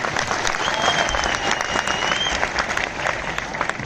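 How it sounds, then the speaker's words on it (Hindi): Loud, sustained applause from an audience at a motivational success-story talk, thick continuous clapping with a faint tonal whistle partway through. "मैं चाहूंगा एक जोरदार तालियां जरूर हो जाए।"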